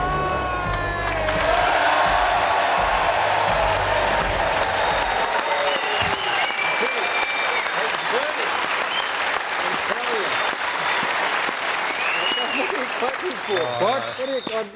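A television studio audience applauds and cheers to welcome a host onto the stage of the AFL Footy Show, with loud, dense clapping and whoops throughout and voices talking over it once it settles.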